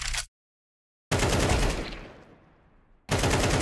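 Rapid automatic gunfire in Counter-Strike 2, loud and close, cutting off into a sudden silence, then another long burst that fades and rings out before a final volley starts abruptly.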